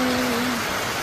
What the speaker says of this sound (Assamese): ইমান ডাঙৰ বৰষুণ ধুমুহা বৰষুণ দিলে